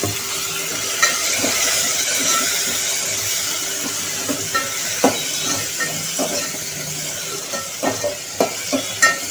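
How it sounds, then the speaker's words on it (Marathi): Finely chopped tomato sizzles in a hot pan over fried chilli and garlic for dhaba-style dal tadka, a steady close hiss with scattered crackles and the scrape of stirring. "तर आपण ह्याच्यामध्ये 1 टोमॅटो टाकत आहोत बारीक चिरलेला"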